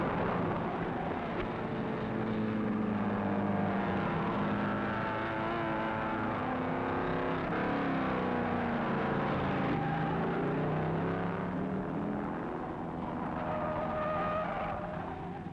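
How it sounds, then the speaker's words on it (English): Jean Behra's number 19 Maserati race car at the 1957 Sebring endurance race, engine screaming past the pits, a loud sustained roar with rising and falling pitch as it passes, mixed with other distant cars. "Behra sends his Maserati screaming after the leader as they come past the pit"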